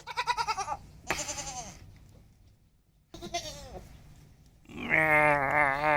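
Goats bleat in a few separate bursts, with a long, loud, wavering call at the end, close and alone without talk.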